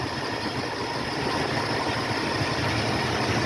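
A 1976 Ford F-150 truck engine idles at normal operating temperature during carburetor adjustment, a steady, low rumble with a faint mechanical vibration, close by and even in level throughout.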